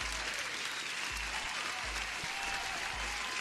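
Applause during a live-streamed forex and gold trading session, a steady bright clapping texture that sounds like a canned or distant crowd, with low rhythmic thumps pulsing underneath.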